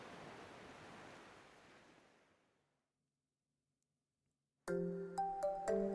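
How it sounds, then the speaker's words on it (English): Gentle sea waves wash on the coast as a soft, broad rush that fades away to silence, followed by a sudden run of bright electronic chime-like tones. "The sea, green like the Duke's emeralds, gently caressed the coast."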